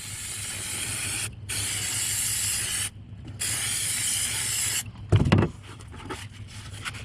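A can of Spray 90 adhesive hisses in several long bursts, with short pauses between them, as it is sprayed onto foam kayak outfitting blocks. A few rustling handling sounds follow the last burst.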